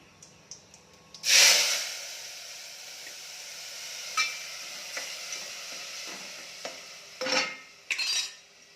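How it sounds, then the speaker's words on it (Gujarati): Spices sizzling in hot oil as khichdi is tempered, a sudden loud burst of frying around the middle that settles into a steady hiss, with later spatters, scrapes and stirring clinks close by. "મિત્રો ખીચડી વઘારીએ।"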